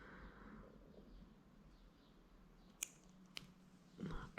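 Scissors snip through beading thread at a close bench, two sharp separate clicks followed by a brief rustle, quiet and without talk.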